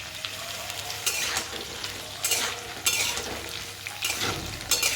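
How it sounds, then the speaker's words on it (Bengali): Pumpkin, potato and flat beans are stir-fried in a pan with fenugreek greens, giving a steady sizzle broken by several sharp scraping strokes of a spatula against the metal. "কুমড়ো আর আলু কিছুক্ষণ ভাজা হয়ে গেছে, এবার আমি এতে ছিম মিশিয়ে দেব।"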